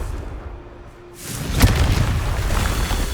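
A Confringo blasting spell goes off in the Hogwarts Legacy video game: after a quiet stretch, a sudden boom bursts out, then a loud crackling, rumbling blast tail persists to the end.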